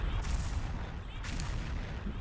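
Dense bursts of gunfire and booming explosions in a shooting video game, loud and continuous, with a brief voice under the din.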